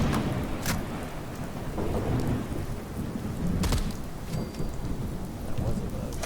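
Rain and thunder from a storm in the video game Fallout 4: a steady hiss of rainfall with low rumbling thunder rolling through, plus a couple of sharp cracks, no talking.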